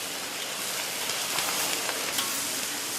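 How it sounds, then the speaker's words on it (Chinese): Guanyin vegetable stir-fried over high heat in a wok with pork belly and bitter bamboo shoots, producing a loud, dense, unbroken sizzle close up with faint tossing and scraping. "最後倒入觀音菜，大火爆炒。"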